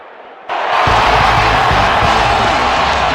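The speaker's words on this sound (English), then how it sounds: "look at all the happy tailgaters as they get set to cheer for the hometown team" A large crowd of home fans roars and cheers at a stadium in the NFL 2K5 football video game, a dense sustained wall of cheering that swells in after a brief quiet start.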